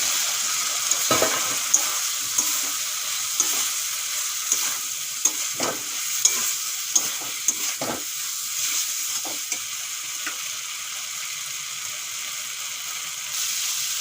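Potatoes and soy chunks are stirred in a spiced masala in a hot pan, giving a steady sizzle with repeated scraping and stirring clicks throughout, close and fairly loud.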